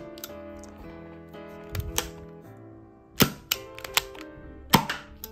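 An Academy Colt Python .357 Magnum BB airsoft revolver being handled and fired indoors. A few sharp, close snaps and clicks stand out against a faint background, with quieter mechanical clicks between them.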